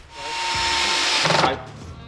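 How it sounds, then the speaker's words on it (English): A power drill drives a cupboard door into the side of a wooden cupboard carcass, one loud close whirring burst of about a second that bogs briefly and then stops, with a short scrape at the end. "drill the door into the side of the cupboard"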